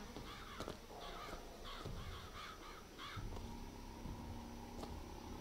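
Crows in Bioshock Infinite give a run of harsh, rhythmic caws, moderately loud over a steady game ambience with faint clicks.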